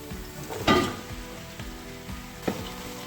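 Chopped onions dropped into hot oil for mutton biryani, a soft steady sizzle broken by two brief louder bursts of crackling and stirring, heard close with no voices.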